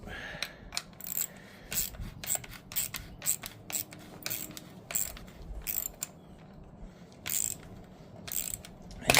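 A ratchet wrench tightens bolts on the hose clamps of a sprayer, its rapid clicking pawl heard in short repeated bursts up close, with pauses between strokes and no talking.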